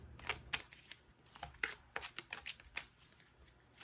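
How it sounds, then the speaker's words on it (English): A soul journeys oracle card deck being shuffled by hand, a series of sharp riffling flutters and soft slaps in irregular bursts, close and quiet with no talking. "we're kind of just pulling cards or letting cards fall out"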